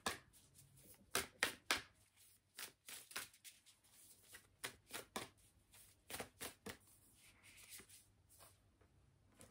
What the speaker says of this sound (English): But let's pull a couple of oracle cards first.